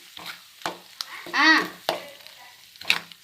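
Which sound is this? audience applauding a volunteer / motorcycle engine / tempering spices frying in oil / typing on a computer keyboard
tempering spices frying in oil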